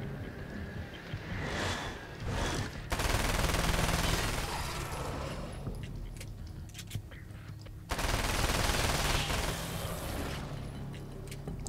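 Rapid bursts of small-gun gunfire in the game Alan Wake American Nightmare, loud and close, with dense volleys broken by a brief lull before the shooting resumes.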